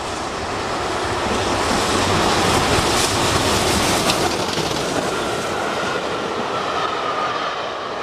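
A steam train, the Clan Line locomotive, rushes through Chilham Station with a loud, continuous roar and rumble that fills the whole stretch, steady and close, with a faint rhythmic clatter.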